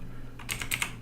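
Fingers tapping out a short command on a computer keyboard, a quick run of five or six crisp, close keystrokes over a low background hum.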